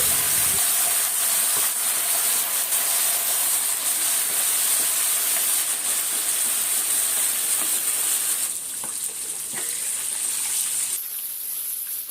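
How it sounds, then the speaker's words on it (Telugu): Chicken pieces for chicken mandi deep frying in hot oil give a loud, steady broadband sizzle and hiss that runs the whole time, with no talking over it. "ఇప్పుడు ఈ ఆయిల్లో మనం చక్కగా ఈ చికెన్ పీసెస్ అన్ని డీప్ ఫ్రై చేసుకోవాలి"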